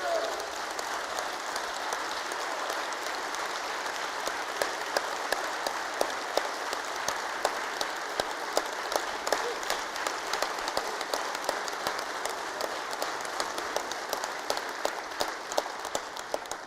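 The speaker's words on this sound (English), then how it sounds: "If y'all don't quit this clapping, we're going to be here all blooming night." Sustained applause from a large audience at a State of the State address, a dense steady roar of clapping that goes on without pause.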